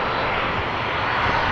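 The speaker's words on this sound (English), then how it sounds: "Transavia flight 5472 arriving from Mahon." Transavia passenger airplane arriving at Amsterdam Schiphol, a steady loud broadband jet engine roar that holds evenly throughout with no talk.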